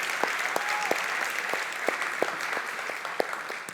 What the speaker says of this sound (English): Can we give a warm round of applause to the incredible founders who presented today?